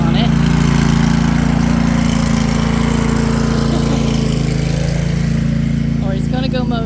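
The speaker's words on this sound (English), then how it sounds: "Here comes Hugh with a lawnmower" A riding lawn mower engine drones loud and close in a steady, unbroken hum, with a brief voice breaking in near the end.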